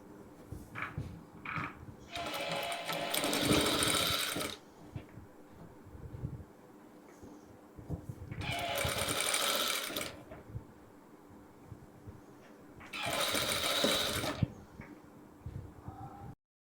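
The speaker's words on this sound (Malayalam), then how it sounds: "നമ്മൾ വീണ്ടും ഇതിൻ്റെ മേലെ കൂടെ ഈ തുണിയും കൂടെ ഒരു റൗണ്ട് സ്റ്റിച്ച് ചെയ്ത് കൊടുക്കാം." Sewing machine stitching a round of fabric onto the yoke of a girls' jumpsuit, three loud whirring runs of a few seconds each with quiet handling of cloth between them.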